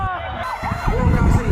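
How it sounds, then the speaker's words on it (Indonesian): Wailing fire truck siren from a responding fire engine at a house fire scene, sweeping up and down over crowd noise and voices. "1 unit mobil pemadam kebakaran diterjunkan ke lokasi"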